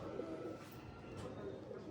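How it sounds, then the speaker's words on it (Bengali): A pair of Madras fulshira pigeons cooing softly in a home loft, low murmuring coos repeating over light background noise. "ম্যাড্রাস ফুলশিরা পায়রা, একদম বসানো পেয়ার।"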